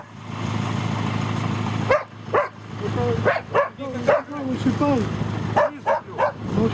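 A dog on a rural property where birch logs are being unloaded gives a series of short barks and yips, some clustered in quick bursts, fairly close, over a steady engine hum, with no clear talk.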